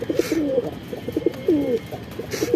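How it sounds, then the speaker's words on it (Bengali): Pigeons coo repeatedly in low, throaty rolling phrases, close by, with a steady soft background hiss and no talking. "এই যে সাদা কবুতরটা।"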